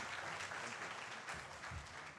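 A seated audience at a University of Nairobi ceremony applauds as the chief guest arrives: a faint, distant, continuous patter of many hands clapping, with no clear voice over it.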